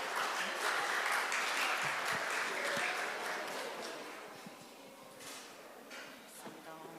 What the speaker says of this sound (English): Please welcome Professor Park with a big round of applause